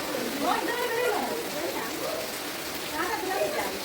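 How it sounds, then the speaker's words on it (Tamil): Heavy rain pours steadily on a village in Vavuniya, Sri Lanka, a dense constant hiss under someone speaking Tamil. "பயங்கர மழை அடிச்சு கொண்டிருக்குது"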